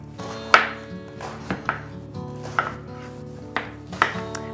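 Cabbage is roughly chopped on a cutting board, five or six distinct knife thuds landing at an uneven pace, each one sharp and close and fading quickly, with a faint steady hum underneath.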